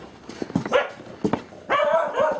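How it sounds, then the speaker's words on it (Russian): An angry dog barks a few times close by indoors at a monastery cell doorway, the sharp barks separated by short pauses. "Да еще и пес сердитый."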